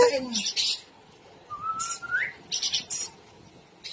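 A bird gives a clear rising whistle, alongside short high chirps and tweets, close by, with soft background noise.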